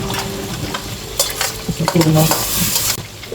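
Fried rice with bacon and butter is stirred in a hot pan, with a spatula scraping and clinking over a constant close sizzle.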